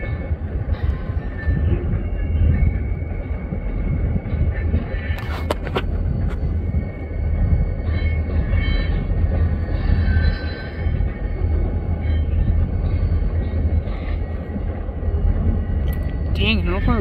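A freight train led by a pair of SD40-2 locomotives passes near Barstow, a loud, steady rumble of rolling wagons and engine drone with a few sharp clanks and brief voices in the background.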